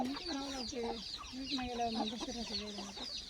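Country hens clucking close by in a village yard, a steady run of overlapping clucks and short calls with no pause across the stretch.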